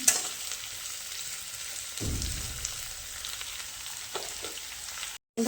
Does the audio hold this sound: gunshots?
no